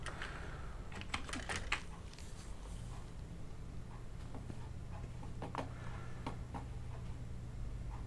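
Keys on a computer keyboard click in quick irregular bursts while a form is filled in, faint and close over a low steady hum, with no talking.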